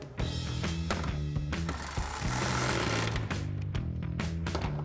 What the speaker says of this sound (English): we'll grab our T25 Torx bit on our ratchet and go ahead and tighten these down